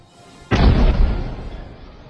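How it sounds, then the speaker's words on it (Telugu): Explosive demolition of a house in Pulwama: one sudden deep boom rolls into a rumbling, slowly fading roar that lasts under two seconds, moderately loud, with no voices over it. "పుల్వామాలోని అతడి ఇంటిని ఈ నెల 13న అర్ధరాత్రిన కూల్చివేశారు."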